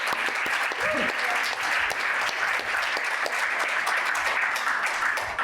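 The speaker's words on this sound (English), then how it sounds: "Can we get another round of applause for these amazing people?" Audience applause at a museum lecture, sustained crowded clapping that holds at an even level throughout, with a brief voice audible near the start.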